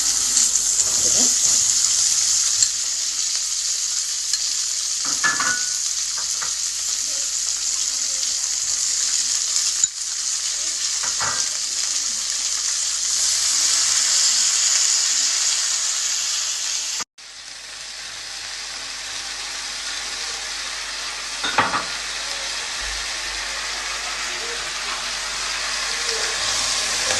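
Vegetables fry in melted ghee with turmeric for a homemade vegetable soup, giving a steady, close hiss of sizzling oil throughout, broken now and then by soft scraping stirs and small clatters.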